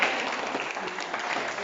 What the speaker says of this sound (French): On applaudit Pierre.